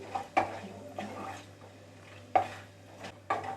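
Whole spices sautéing in hot oil for a dhaba-style chicken curry are stirred in a pan, with a few distinct spoon scrapes and clinks over a soft, faint sizzle.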